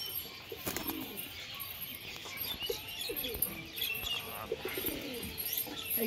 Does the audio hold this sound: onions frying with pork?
no